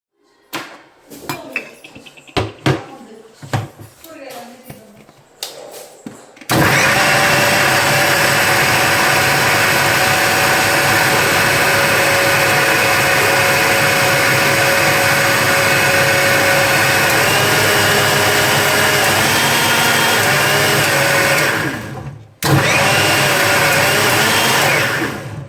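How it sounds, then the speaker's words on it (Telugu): A kitchen mixer grinder whirs loudly and steadily while blending sweet corn, starting abruptly after some brief handling clatter, running continuously for about fifteen seconds, pausing briefly, then resuming. "ఫస్ట్ మిక్సీకి అయితే వేసేద్దాం ఇప్పుడు"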